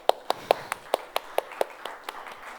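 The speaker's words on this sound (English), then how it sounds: "Give him a big round of applause." A small audience at a talk giving a short round of applause, a handful of distinct, fairly close claps spaced out and thinning toward the end.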